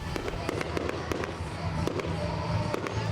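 A fireworks display at a family community event with local performances, heard as a rapid crackling series of sharp bangs and pops over a continuous rumble, fairly distant but dense and steady throughout.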